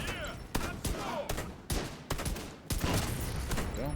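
Rapid pistol gunfire in The Division 2 rings out in a quick string of sharp, echoing shots, roughly eight or nine bursts spaced unevenly over a few seconds, moderately loud with a busy game background between them.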